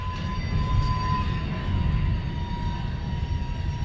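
A loud train passes through a train yard, giving a steady, heavy rumble with a thin metallic whine held over it for the whole stretch, close by and with no talking.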